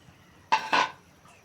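Hilsa fish marinated in turmeric and mustard oil drops into a pan, giving two quick soft clattering hits with a brief sizzle after, faint and alone against a quiet kitchen.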